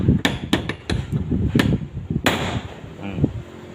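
A hammer strikes a pin during repair of an electric fan: several sharp metallic taps in quick, uneven succession, close and clear, with a final harder blow that rings briefly.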